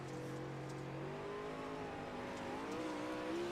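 A race car engine drones steadily in a sim racing game, heard on board car 78 as it gathers momentum out of a corner, its loud, continuous tone rising in pitch with no voices over it.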